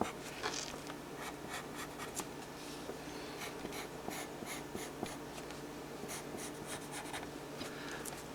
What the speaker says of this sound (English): so now I just draw this other half